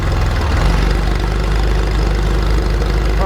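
A Porsche 911 of the 964 generation fitted with a Cargraphic exhaust idles, a loud, steady, deep rumble with a faint rhythmic throb, close by and alone.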